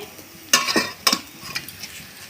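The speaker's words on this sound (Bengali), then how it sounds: "এখন আমি নাড়াচাড়া করে পুরটা ভালো করে বানিয়ে নেব।" Potato filling being stirred in a pan with a utensil, a few distinct scraping strokes over a soft sizzle, close and moderately loud, no talking.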